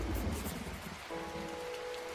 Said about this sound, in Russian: Сейчас достаточно темно и дождливо, боюсь, надвигается шторм